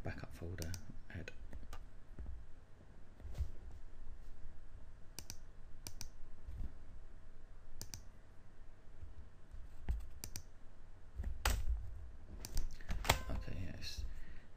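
Computer keyboard typing and mouse clicks while operating NVMS software: quick irregular bursts of key taps and sharp clicks, close and moderately quiet, spread across the span over a faint steady hum, with no speech.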